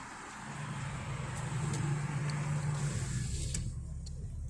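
A truck drives past on a warm afternoon road. A steady engine rumble and road noise swell and then ease off, with no talk over it.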